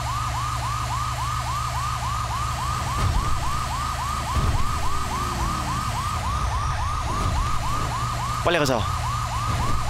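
A fire truck siren wails in the video game GTA V, loud and close with a fast, steady repeating whoop throughout, while someone speaks briefly over it and engine rumble sits underneath.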